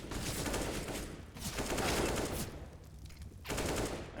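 Rapid bursts of gunfire in a competitive shooter match come in loud, dense volleys split by brief pauses, with sharp cracks repeating in quick succession.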